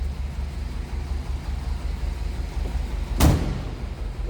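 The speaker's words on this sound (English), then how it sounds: "Door closes nicely." A single solid thump of a 1956 Ford Thunderbird's door shutting, heard once against the car's low steady engine idle.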